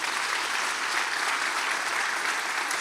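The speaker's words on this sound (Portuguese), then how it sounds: "Pode aplaudir Jesus." Continuous applause from a church congregation at a Brazilian worship service, an even, dense wash of clapping at a steady level with no voices breaking through.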